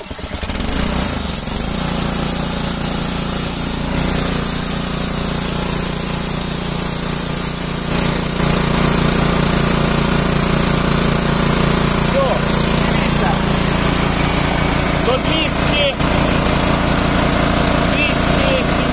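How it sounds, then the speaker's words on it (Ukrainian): A Honda engine starts and runs steadily during air cylinder refilling, a loud continuous mechanical drone with a rough, mower-like rattle that grows slightly louder partway through. "І заводимо нашу Хонду"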